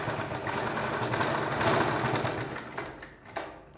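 A sewing machine stitches foam buttons onto the front neck of a garment, running as a fast, steady mechanical whir for about three seconds and then slowing and stopping with a couple of clicks.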